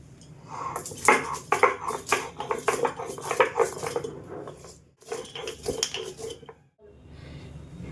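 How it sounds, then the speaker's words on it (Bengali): Whole black pepper, cloves and cardamom being crushed on a stone grinding slab, giving a close run of gritty scraping and knocking strokes in uneven rhythm, with brief pauses between bursts. "গোলমরিচ লবঙ্গ আর এলাচটা গুঁড়ো করে নিচ্ছি"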